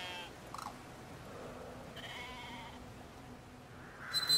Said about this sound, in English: We have some sheep.